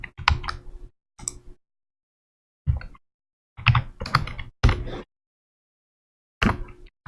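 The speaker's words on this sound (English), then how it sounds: "Got a new keyboard, it's a little hard to type on." Typing on a new computer keyboard that is hard to type on: short bursts of clicky keystrokes separated by pauses, close and fairly loud, with no voices.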